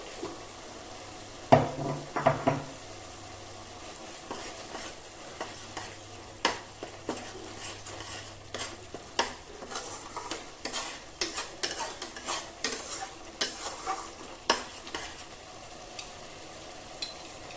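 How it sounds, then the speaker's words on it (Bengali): Spice paste for a vegetarian potato curry sautéing in a pan, a low steady sizzle under frequent scraping stirs and light clinks of a spoon against the pan, close and moderately quiet. "এই মশলাটাকে খুব ভালো করে কষিয়ে নেব।"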